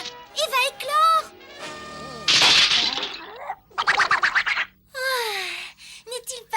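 A cartoon egg cracks open as it hatches in an animated Smurfs Easter special: a loud, crunchy burst of cracking and breaking in the middle, with animated voices speaking before and after.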